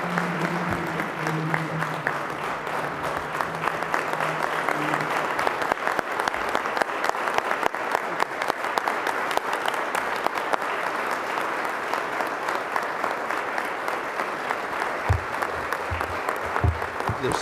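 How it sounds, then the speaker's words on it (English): An audience applauds after a speech, a loud, dense and steady clapping that fills the whole stretch without letting up, with a few louder thumps near the end. "We'll have more chances to applaud in a second, I think."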